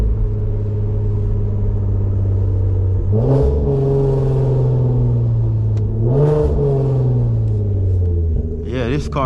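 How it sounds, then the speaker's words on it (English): A loud car lowered on Megan Racing coilovers idles with a deep, steady exhaust drone, then revs sharply twice, each rise falling back to idle, with a third rev beginning at the end; no one speaks. "This car is loud"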